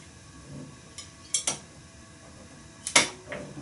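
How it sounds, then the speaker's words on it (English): An old knife prises at the sealed lid of a jar from a kitchen cupboard, giving several sharp clicks and metallic clinks, with one louder pop-like snap near the end of the short, close, quiet sequence. "we use an old knife and we just break the seal"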